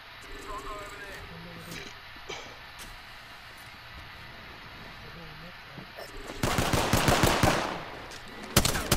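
Gunfire in the Apex Legends video game: dense, loud bursts of rapid automatic shots in the final seconds, following quieter game ambience, with players talking over it.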